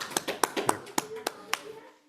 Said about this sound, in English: We will clap for you.